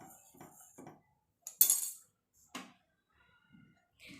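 Grated coconut stirred in ghee in a pan, with a spatula giving short, separate clinks and scrapes against the metal, the loudest stroke near the middle and quiet gaps between them.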